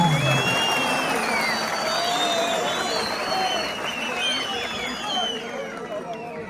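A crowd applauding and cheering, with clapping, whoops and whistles that run steadily and loudly throughout, fading slightly toward the end, while voices talk over it.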